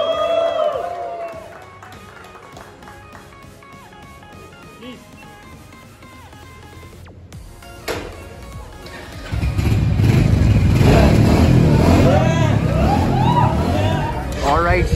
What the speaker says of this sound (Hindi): अब ये तो एग्जॉस्ट नोज भी तुम लोग सुन लो